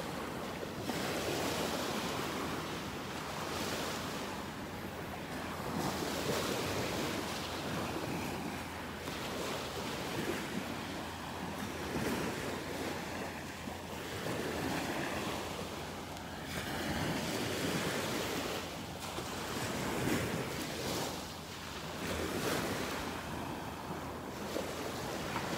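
Ocean waves lap and wash onto the shore at a North Naples, Florida beach in a steady, rolling surge, with wind noise blowing across the microphone and no voices.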